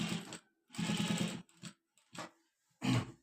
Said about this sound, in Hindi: तो मैं आहिस्ता आहिस्ता सिलाई लगा रहा हूँ।